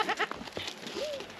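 Goat bleats from a La Mancha and Myotonic (fainting goat) cross on a farm, a couple of short wavering calls close by, with a rising-falling cry near the end, over light background noise.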